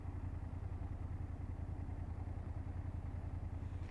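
A BMW F800GS motorcycle engine drones steadily while riding, a low, even throb with a faint clatter that holds at the same loudness throughout.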